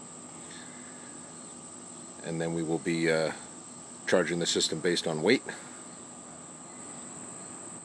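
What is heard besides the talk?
cicadas buzzing in the background on a humid day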